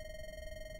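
A phone ringing inside a house in the ghost hunting video game The Other Side, a faint, steady electronic ring tone held for under a second.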